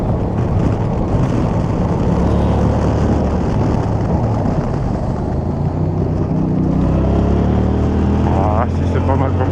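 A Yamaha R7 motorcycle with an aftermarket exhaust line accelerates under heavy wind buffeting. The engine drone rises steadily beneath constant loud wind roar, and a rider's voice is partly masked.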